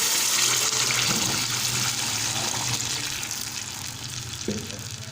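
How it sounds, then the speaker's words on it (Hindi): Water pours into a pot of vegetable pulao masala, hissing and sizzling against the hot spices in a loud, steady rush that slowly eases, with a clink of the pot near the end. "अब इसमें मैं पानी शामिल करूँगी"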